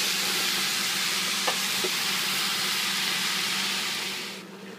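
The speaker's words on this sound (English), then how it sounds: "Put in our mushrooms. You just want to stir them constantly." Mushrooms and onions sizzle and hiss steadily in a pot while being stirred, with a couple of faint utensil scrapes before the sound eases at the end.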